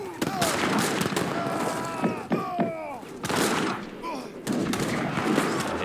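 Town center firing on enemy units in Age of Empires III, a rapid crackle of musket-like gunshots in repeated bursts, close and busy, with game sound effects layered over it and a voice talking at times.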